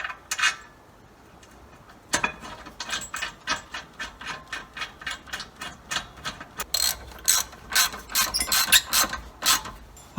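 A socket wrench with a 17 mm socket ratchets brake caliper bolts tight on a 300ZX Turbo rear brake, a close, rapid series of crisp clicking strokes in uneven bursts, with no talking.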